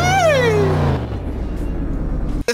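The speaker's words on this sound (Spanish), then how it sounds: "Hace mucho ruido esta Raptor." A Raptor truck engine in a Roblox game revs with a falling pitch sweep, then settles into a low, throbbing idle, loud and close, with a brief click near the end.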